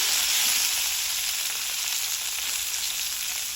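Carrot pickle with tamarind sizzles steadily in oil over a low flame, a close, dense, continuous frying hiss with no voices.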